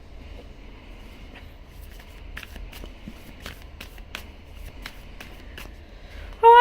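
A tarot card deck is shuffled close by, producing soft riffling and papery flicks with scattered light taps in an uneven rhythm, fairly quiet throughout until a sudden louder tone at the very end.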